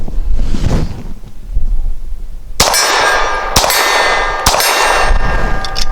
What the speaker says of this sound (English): This is a snubby round, super lightweight, frangible round, great for shooting steel, which we're doing.